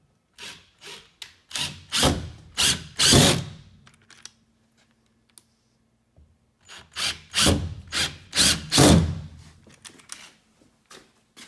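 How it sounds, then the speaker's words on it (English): A power drill drives screws through the face of a garage slatwall panel into wall studs, two bursts of repeated whirring runs in a rhythmic series, separated by a quiet pause with a faint hum. "You must put screws through the face of the panel into the studs to put it up on your wall."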